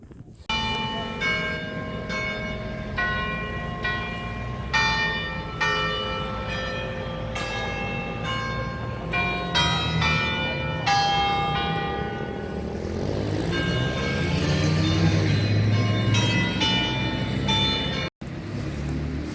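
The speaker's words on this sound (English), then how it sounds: "We were walking up and those bells started tolling, so that was really nice." Church bells of St. Stephen's in Shkodër, Albania, ringing loud and close in repeated overlapping strikes with long ringing decay, while a car or aircraft hums in the background.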